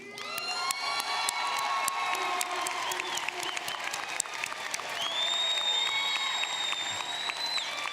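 Sustained loud applause from a large audience fills a university engineering commencement ceremony, with scattered cheers and whoops rising over the steady clapping throughout.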